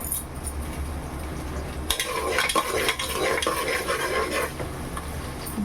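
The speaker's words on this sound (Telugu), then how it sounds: "బాగా ఫ్రై చేద్దాం ఇప్పుడు దీంట్లో అల్లం వెల్లుల్లి పేస్ట్ పెడతాం ఆనియన్ బాగా ఫ్రై అయింది" Onions fry in a pan for a vegetable pulao, a quiet sizzle at first, then a utensil scrapes and stirs them with clinks against the pan over a louder crackling fry, close by with no talking.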